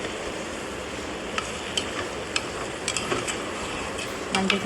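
Chicken kuzhambu being stirred in a pan after turmeric goes in, a steady sizzle running under a few sharp spoon scrapes and clinks against the metal, close and moderately loud with no talking.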